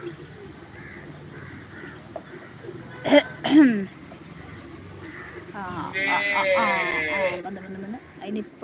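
A frightened pigeon gives two short, sharp sneezes close by, set against a steady background of talking and other faint bird calls.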